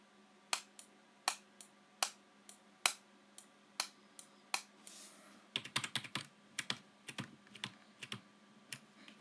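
Computer keyboard keys are pressed during a Minecraft session. About a dozen crisp, evenly spaced taps come first, followed by a quicker irregular burst of clicks. All are close and quiet, with no voices.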